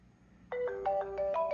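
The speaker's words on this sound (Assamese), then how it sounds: "এইটো ফোন বাজিছে।" A mobile phone rings after a remote play-sound command from Find My Device, a clear repeating ringtone melody that starts suddenly and holds steady at close range with no talk over it.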